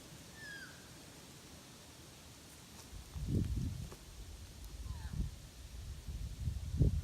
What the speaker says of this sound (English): Hearing the birds call.